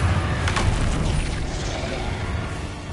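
Confringo fire spell exploding in the Hogwarts Legacy video game, a heavy low boom that rumbles and sustains for several seconds, loud and dense with a crackling burst near the start.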